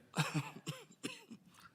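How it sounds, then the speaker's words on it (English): A few quick, raspy coughs in a short burst during a county board meeting, fairly faint and close, with no talking. "I apologize for this annoying cough."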